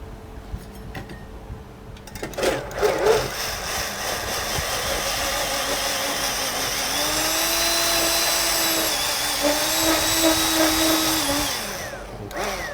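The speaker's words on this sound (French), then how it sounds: "c'est du citron vert mélangé avec de l'eau, de la lécithine de soja qu'on a mis à 90 degrés, qu'on va mixer" A blender runs steadily, mixing lime juice with water and soy lecithin heated to 90 degrees, its motor whine rising and shifting pitch over a continuous loud hum after a few clatters at the start.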